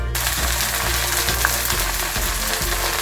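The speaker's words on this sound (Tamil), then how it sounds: "இப்போ ஒவ்வொரு இலையாக சேர்த்து ரோஸ்ட் பண்ணிக்கலாம்." Leaves roasting in hot coconut and mustard oil in an iron pan, a steady close sizzle and crackle with faint stirring scrapes, no talk.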